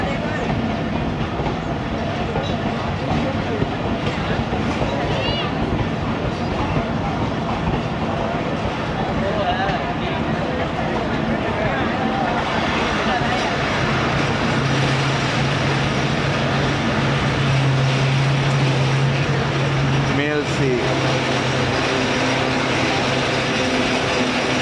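The Fareed Express passenger train running through rural Punjab, a continuous loud rumble with rhythmic clickety-clack of wheels over rail joints and rattling carriage mechanisms, heard from on board with no pause.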